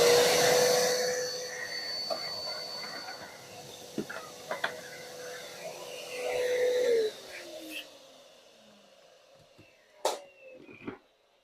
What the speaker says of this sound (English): Got to hoover that up too.